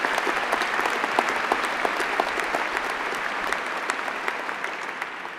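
A graduation ceremony audience applauds the graduates of the Department of Immunology and Inflammation, a dense, steady wash of many hands clapping that holds evenly throughout and fades slightly at the end.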